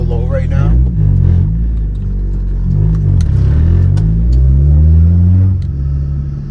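A manual car drives through the Bronx with a low clutch bite point, its engine rumbling and revving from inside the cabin, rising and falling in pitch as it accelerates, heard loud and close throughout.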